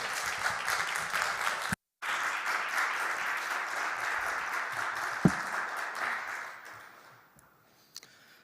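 Sustained applause from a church congregation fills the room, steady and dense, then gradually fades to scattered claps and silence.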